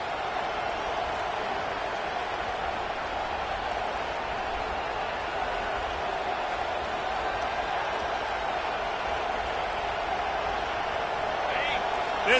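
A large stadium crowd at a Penn State college football game against Maryland keeps up a steady, dense roar throughout, loud and unbroken, with no clear peaks.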